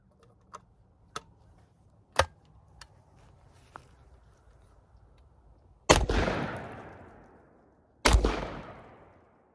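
A 12 gauge double barrel shotgun fires two loud, close blasts about two seconds apart, each with a long rolling echo, after a few faint clicks and taps of handling.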